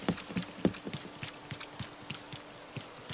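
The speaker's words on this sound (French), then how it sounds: "il pleut, qu'est-ce que tu veux que je lise pendant qu'il pleut" Rain falling in the Animal Crossing video game: a soft patter of scattered drops with light splashy ticks, fairly quiet and steady, with a faint low hum underneath.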